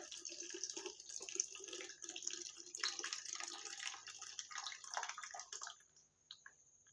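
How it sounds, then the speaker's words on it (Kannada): Water pours and splashes over a batch of varna avare beans as they are rinsed clean by hand, a steady close-up rush of washing for about six seconds before it trails off into quiet. "ಈಗ ನಾನೇ ನೀರು ಹಾಕಿ ಇದನ್ನೆಲ್ಲ ಸ್ವಚ್ಛಂಗೆ ಬಳಸ್ತೀನಿ"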